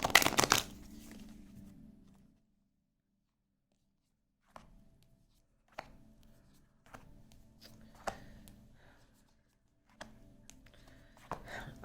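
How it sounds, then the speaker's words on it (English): Cards are riffled and shuffled in a quick burst, followed by soft, sporadic taps and slides of cards between quiet pauses. "One last shuffle."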